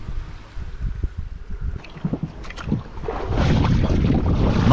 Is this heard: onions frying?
no